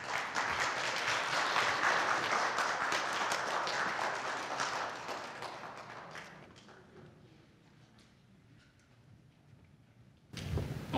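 A crowd applauds loudly for several seconds, then the clapping thins and fades to scattered claps before a brief burst returns.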